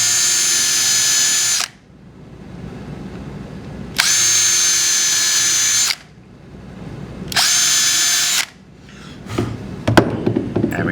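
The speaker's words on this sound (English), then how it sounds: "And drill in about a centimeter, a little less." A power drill bores holes about a centimeter deep into a wooden three-legged stand, three loud whirring bursts of a couple of seconds each, close up, followed by knocks and handling sounds.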